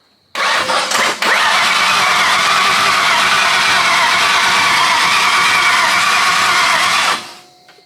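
Junkyard Mustang engine cranking over on the starter, a loud steady churning that runs for about seven seconds without catching, then cuts off.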